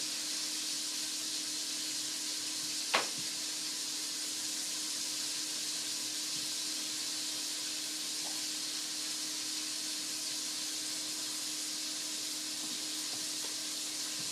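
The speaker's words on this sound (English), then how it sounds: "Browning very nicely on this butane burner." Food browns in a pot on a butane burner, giving a steady, even sizzle and hiss throughout with one brief sharp click partway through, close and moderately loud with no talk.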